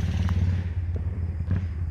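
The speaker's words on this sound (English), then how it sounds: "disregard the very loud motorcycle driving by" A loud motorcycle engine rumbles steadily and low throughout, heard from indoors in a home setting as it drives by, with a few faint knocks and clatters on top.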